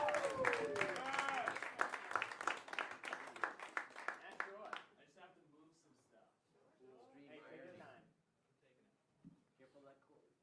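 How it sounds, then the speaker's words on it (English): Comedy club audience at a festival semifinal breaks into loud, dense applause with cheers for the first half, then it fades out as a comedian begins speaking. "Give a warm round of applause"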